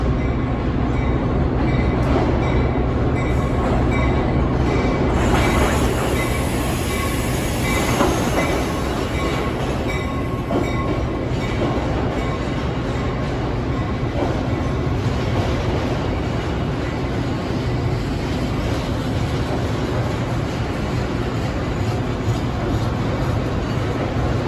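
An Amtrak regional passenger train pulls into a busy Chicago rail yard near Roosevelt Road, its loud continuous rumble and rolling wheels filling the air, with faint wheel squeal and clickety-clack over the steady roar.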